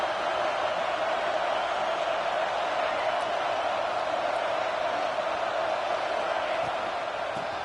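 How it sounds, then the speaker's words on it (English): Stadium crowd roar in EA College Football 26 as the home fans get loud for a red zone defensive stand, a dense continuous wash of cheering that stays level throughout with no voices standing out. "here comes the noise. This crowd is trying to inspire this defense to make a big red zone stop."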